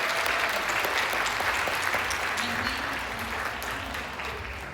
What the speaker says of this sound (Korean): 다 같이 박수 한번 주십시오